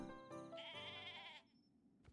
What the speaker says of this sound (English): Oh, but they're sheep.